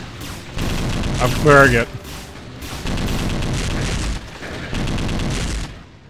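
Bursts of shotgun fire in the video game Brutal Heretic, three dense stretches of rapid booming shots, loud and close, with someone talking over the gunfire.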